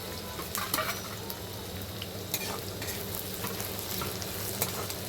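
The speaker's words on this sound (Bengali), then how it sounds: "পেঁয়াজটা দেওয়া হচ্ছে, যে পেঁয়াজ ভাজা হবে, ভাজা একটু ভাজা ভাজা হয়ে গেলে মশলাটা দেব।" Onions fry in a pan for a chicken curry, making a continuous broadband sizzle with occasional scraping and stirring clatter throughout and no talking.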